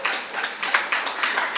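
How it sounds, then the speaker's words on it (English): An audience at a library poetry reading claps, a brief burst of dense, even hand clapping from a small crowd, moderately loud and with no talk over it. "Yes, clap for poetry."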